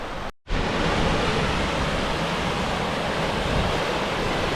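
A clear brook in the Peak District runs over rocks, a dense, continuous close rush of water that fills the clip after a brief dropout at the start, with no voices.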